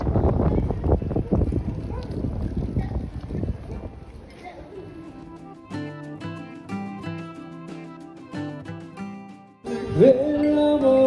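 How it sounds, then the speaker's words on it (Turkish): Strong, cold wind rumbles and buffets in low gusts on an evening street in Morocco for the first few seconds, then gives way to music. "Soğuktan olabilir çünkü çok fazla rüzgar var"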